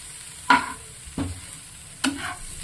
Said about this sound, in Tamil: இதை நல்லா நம்ம மிக்ஸ் பண்ணிக்கலாம்.